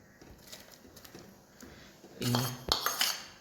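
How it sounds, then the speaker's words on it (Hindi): Pieces of sweet potato are tipped into a pot for kheer with a burst of clattering and clinking of the pot and utensil, following quieter faint kitchen handling. "अब मैं इसमें ये शकरकंद डाल रही हूँ"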